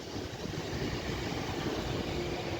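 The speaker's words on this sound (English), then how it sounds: "Very long train." A very long train rumbles past on a Cornish branch line, a steady, broad, continuous roar of wheels and carriages that stays loud and unbroken throughout.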